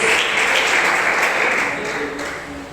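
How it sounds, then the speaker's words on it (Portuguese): A church congregation claps joyfully for Jesus, a dense steady wash of hands filling the room, holding strong and easing slightly toward the end. "as palmas bem alegres para Jesus"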